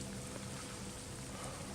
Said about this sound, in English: It's still drizzling a bit